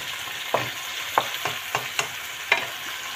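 Salmon frying in a pan for a salmon pasta, a steady sizzle with several sharp spatula scrapes and clicks spaced irregularly over it, close and fairly loud with no talking.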